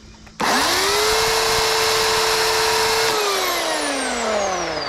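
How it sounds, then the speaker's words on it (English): A motorized grinding-disc sharpener runs loud and steady on a blade, a high whine spinning up abruptly and holding, then the pitch slowly falling as it winds down, with no talking. "there's a grinding disc that looks like a C that goes around this, and then you'll just see the sparks"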